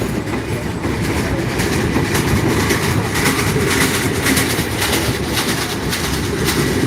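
Banalata Express, a nonstop Rajshahi–Dhaka train in Bangladesh, running at speed: a loud, steady rumble of wheels and carriages with faint clickety-clack throughout, no voices.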